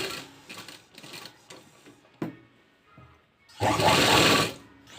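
A sewing machine stitches a fabric sleeve in short clattering bursts with pauses between them, then runs in a louder, longer stretch near the end, close by.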